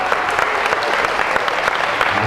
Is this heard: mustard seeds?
no